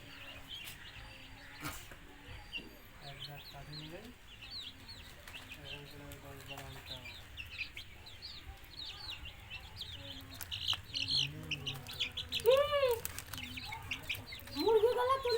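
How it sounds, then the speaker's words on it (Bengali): Free-roaming chickens on a rooftop cluck and chirp in scattered calls, some close and some farther off, growing busier toward the end, with faint voices and background noise beneath. "মুরগিগুলো ছেড়ে দিয়েছে, দেখো কি সুন্দর লাগছে।"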